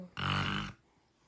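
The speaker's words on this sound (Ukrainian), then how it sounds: "Що ти хропиш?" A pet lets out one short, throaty snore, a rough nasal burst lasting about half a second, close by and alone before quiet returns.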